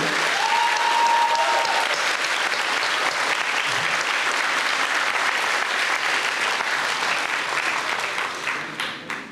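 Sustained applause for graduates from a large crowd at a school teachers' council in Donetsk, loud and steady throughout, thinning slightly near the end.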